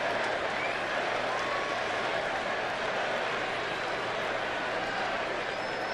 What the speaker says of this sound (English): Meanwhile, the crowd picks it up right away.